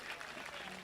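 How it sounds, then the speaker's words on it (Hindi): An audience claps steadily and densely in a brief burst of applause at a devotional Ramayana gathering, with no pauses. "ये बेटी पर जोरदार ताली बजा दो,"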